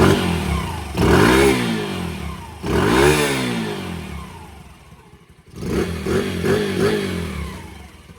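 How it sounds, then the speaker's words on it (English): Small engine on a homemade three-wheeler idling with a loose pitter-patter, then revved up in a few rising, clattering bursts, close and loud with no talk. "Listen to that thing just pitter patter."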